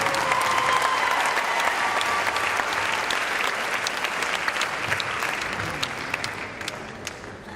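A crowd claps for a chamber-of-commerce guest being welcomed onto the stage at a community performance event. The applause is full and continuous, gradually thinning out with a few scattered claps near the end.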